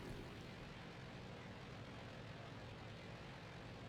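A steady low boat engine drone in a video game hums continuously at an even pitch, with no voices over it.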